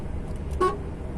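A car horn, pressed by mistake in place of the wiper stalk, gives one short, faint toot over the low rumble of the car in wintry weather, with no voices.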